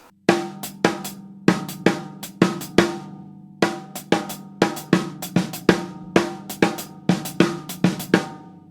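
A drum kit plays an African gospel praise fill of quick, resonant tom strikes in bursts of two and three, loud and close.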